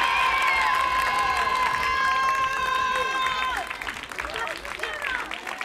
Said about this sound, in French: Vous pouvez applaudir bien fort.